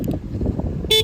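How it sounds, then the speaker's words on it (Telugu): A Hero Passion Plus motorcycle horn gives one short, loud, bright beep at the very end, after a brief stretch of low background rumble. "హారన్,"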